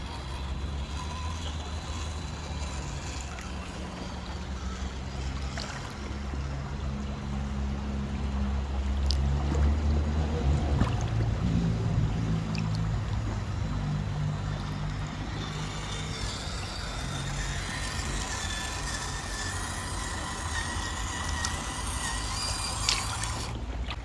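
A 1/24 scale FMS FCX24 Power Wagon RTR RC crawler drives through a stream, a steady close wash of flowing water with low motor rumble running continuously throughout, no talk.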